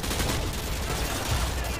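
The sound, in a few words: gunfire in the video game Call of Duty Modern Warfare 2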